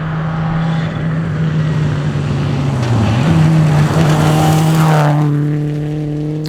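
A Subaru WRX rally car competing at a rally, its engine holding a loud steady drone, dipping briefly around gear changes, then climbing sharply in pitch as the car accelerates hard.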